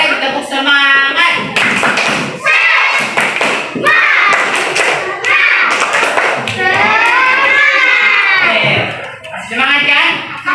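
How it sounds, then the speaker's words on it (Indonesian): A classroom of children does a rhythmic spirit clap, sharp patterned hand claps mixed with loud chanting voices, close and continuous throughout. "Mari kita tepuk semangat."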